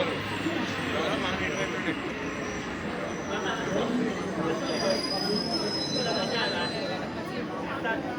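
An airport shuttle train at a Dubai airport platform, heard as steady rail rumble with high-pitched wheel squeal throughout; the sound is continuous and fairly loud, with faint background chatter.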